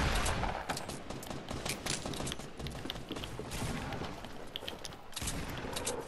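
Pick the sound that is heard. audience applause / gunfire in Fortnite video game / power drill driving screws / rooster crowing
gunfire in Fortnite video game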